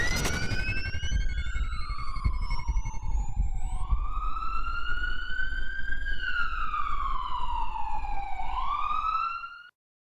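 A siren sound effect plays alone and loud, sweeping up and down in long wailing cycles with bright harmonics, then cuts off abruptly near the end.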